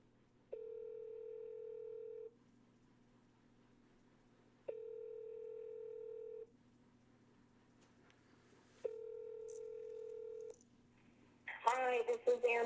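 An outgoing phone call plays out as a dial tone and then three long ringback tones in a slow, even rhythm, followed by a burst of voice at the end when the line connects.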